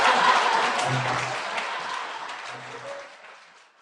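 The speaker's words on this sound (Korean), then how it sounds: "큰일하고 돌아오신 의원님께 박수 부탁드립니다." A studio audience at a Korean talk show gives a lawmaker a burst of applause, dense clapping that starts loud and gradually fades away over a few seconds.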